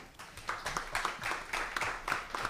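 A round of applause at a Brazilian environment committee session on climate emergency, an audience clapping with steady repeated bursts at moderate distance, fairly faint, with no talk over it.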